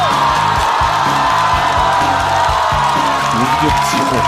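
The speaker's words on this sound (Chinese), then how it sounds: "掌声欢迎范志毅" A studio audience cheers, whoops and applauds as footballer Fan Zhiyi is welcomed onto a Chinese variety show stage, steady and loud throughout, with music running underneath.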